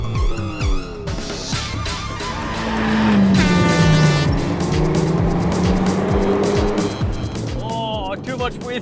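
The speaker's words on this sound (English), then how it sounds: "too much wheel spin off the line" Renault Megane hot hatch and rival cars revving hard at a race start, with wheel spin, tire squeal and rising engine notes close by, while a voice talks over the racket.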